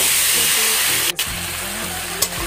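Marinated meat hits browned onions in a hot pan, giving a loud continuous sizzle and hiss with a brief clatter partway through.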